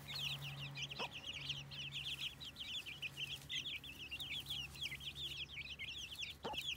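A flock of chicks cheeping continuously in high, rapid chirps, close by and fairly soft, with a low steady hum underneath and occasional clucks from grown fowl.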